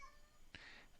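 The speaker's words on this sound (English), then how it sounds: "The cat's meowing again." A cat meows indoors, a single short meow that is faint and in the background against a quiet room.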